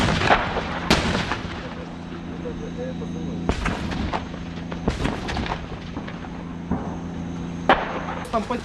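Heavy booms of artillery and grenade launcher fire echo at a distance, several sharp thuds spaced irregularly over a low steady rumble.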